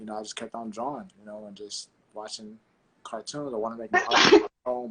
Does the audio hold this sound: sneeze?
yes